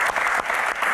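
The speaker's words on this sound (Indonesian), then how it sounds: "Ya, Tepuk tangan." Audience applause during a casual Q&A session, a brief burst of close, dense clapping that runs for about a second at a steady level.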